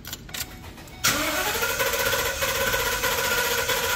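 A car engine with one cylinder misfiring cranks over and catches at about one second, then settles into a loud, steady, uneven idle that runs to the end with no talking.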